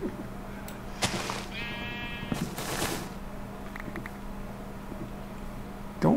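A single sheep bleats briefly in a jungle island video game, a short nearby call over a steady low background hum with a few soft knocks.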